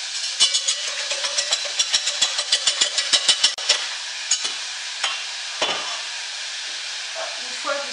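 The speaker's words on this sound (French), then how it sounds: "Maintenant, vous les mélangez, vous battez les œufs." Beaten eggs whisked in a bowl for a quiche lorraine: a rapid, regular run of close clicking strokes for several seconds, then slower scattered taps, with no talking.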